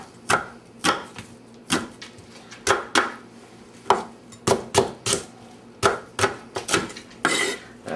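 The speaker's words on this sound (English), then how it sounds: "the onion and the celery, we're just gonna give it a rough chop" A knife roughly chopping onion and celery on a cutting board, a series of loud, close, irregular thunks at a quick pace with no one speaking.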